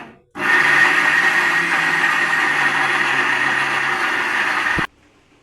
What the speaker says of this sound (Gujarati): આપણે એમાં મિક્સરમાં નાખીએ